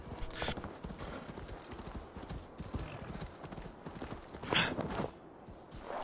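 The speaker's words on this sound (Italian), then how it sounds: "Fa stranissimo poi sentire il rumore del frustino quando palesemente non lo stiamo usando." A horse is ridden in the video game Assassin's Creed Valhalla, steady hoofbeats clip-clopping throughout with a couple of brief sharp snaps standing out and a soft whinny.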